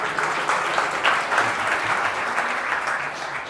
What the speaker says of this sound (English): Oh, you guys deserve a round of applause.